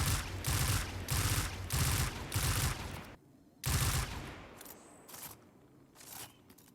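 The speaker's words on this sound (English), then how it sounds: "Vigilance Wing. This, I already know, is going to be very borderline to it just sounds like a gun." Vigilance Wing, an exotic pulse rifle in Destiny 2, firing five-round bursts: loud, rapid clusters of shots repeated in steady rhythm, followed by quieter clicks and mechanical handling sounds.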